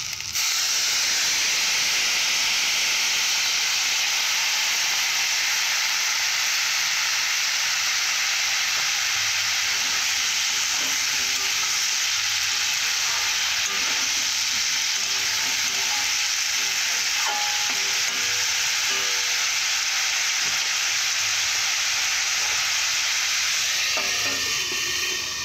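Bottle gourd cooks in a hot covered pan after a little water goes in, a loud continuous hiss of steam and frying that runs unbroken for over twenty seconds, with a few faint clinks near the end.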